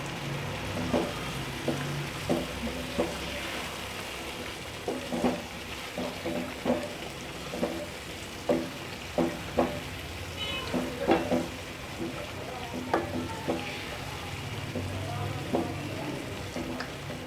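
Chicken with masala, tomatoes and yogurt sizzles in a pot while cooking for biryani. A soft continuous frying hiss is punctuated by regular knocks and scrapes from stirring, close by.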